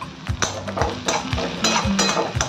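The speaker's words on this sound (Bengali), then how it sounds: "দিয়ে রসুনটাকে একটু নাড়াচাড়া করবো। দেবো অল্প কাঁচা লঙ্কা।" Garlic and green chillies stirred in a frying pan while making begun bhorta: rhythmic, close spatula knocks and scrapes against the pan over a low sizzle, with no talking.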